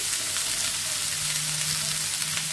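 Onions added to vegetables in a frying pan with about a tablespoon of oil, giving a loud, even, continuous sizzle close by with light stirring.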